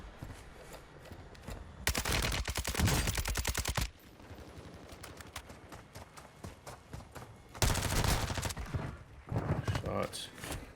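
Call of Duty gunfire from a Kastov 762 rifle comes in rapid automatic bursts, loud and near, with two long strings and shorter volleys separated by quieter stretches of game ambience.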